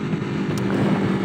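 A 2016 Aprilia RSV4 RF motorcycle pulls hard in second gear at about 48 mph, its engine a loud, steady rumbling drone blended with wind rush.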